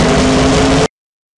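Race car engine during a high-speed chase through London streets in a Cars 2 story, a loud, sustained roaring whine close up for under a second before cutting off abruptly into silence.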